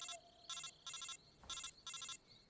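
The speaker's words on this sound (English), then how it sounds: "She can hear our codec ringing." A Metal Gear Solid 3 codec call rings in a steady electronic pattern of four bursts separated by short gaps, clear and prominent with no talking.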